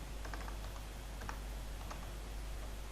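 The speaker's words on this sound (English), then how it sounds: "I would type select star" Typing on a computer keyboard with a few light key clicks in quick succession, faint under a steady broadband hiss and low hum, with no one speaking.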